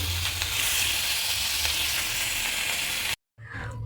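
Katla fish fry in hot oil in a pan with a loud, steady, close sizzle. The sizzle breaks off in a brief silent cut near the end and then resumes at the same intensity.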